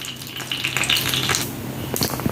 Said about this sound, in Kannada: ಸಾಸಿವೆ ಒಳ್ಳೆ ಸಿಡಿದ ಮೇಲೆ